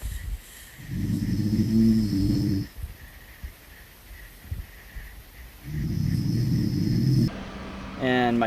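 A wife snores in two long, loud, rasping inhales separated by quiet pauses, close by, followed by a brief tonal sound at the end.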